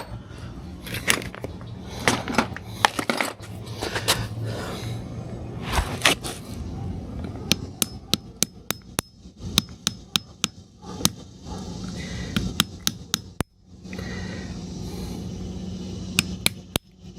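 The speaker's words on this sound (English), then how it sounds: "Actually, it might be easier just to hit it with a hammer." Sharp hammer blows striking a chainsaw housing to crack it loose, a scattered run of close, loud metallic knocks with short pauses between them and no talk.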